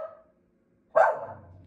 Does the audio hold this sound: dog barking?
yes